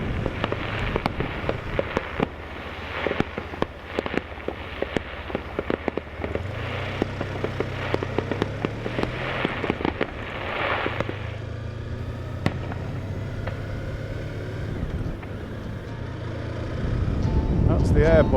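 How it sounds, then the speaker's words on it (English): Fireworks going off at a beach in Ostend, a long string of distant crackling pops and bursts at an irregular rhythm, with a low engine-like drone and people talking underneath. "there was a few fireworks"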